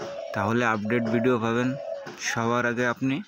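A spotted dove kept as a hunting decoy coos in dense, repeated calls nearby, mixed with someone speaking throughout.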